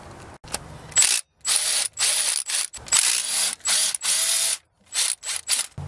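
A ratchet on a long extension clicks in repeated bursts while backing out transmission bolts, loud and close, with short pauses between each run of rapid pawl clicks.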